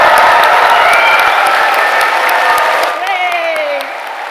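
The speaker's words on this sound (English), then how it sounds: "can the rest of us please practice giving them the biggest cheer that we can?" Audience in a large hall at a London degree ceremony cheering and applauding loudly and steadily, a dense wash of clapping with whoops, easing slightly toward the end.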